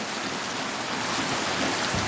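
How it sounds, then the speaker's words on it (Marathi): Steady rain pours down in a continuous dense hiss, spattering on surfaces with no pauses. "बघा तुम्ही पाऊस कसा पडला आहे"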